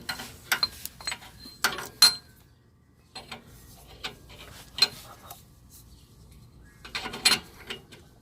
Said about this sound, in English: put your O2 sensor socket on there and remove the O2 sensor.